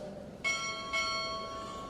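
At a naval chief petty officer ceremony, a ship's bell is struck two times in quick succession, each metallic clang sustaining a shimmering ring that slowly dies away in a quiet hall.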